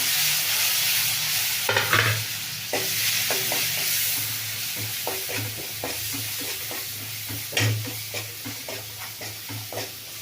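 Onion and capsicum fry in a pan for an egg chilli masala, a steady close sizzle broken by repeated scraping stirs of a utensil against the pan.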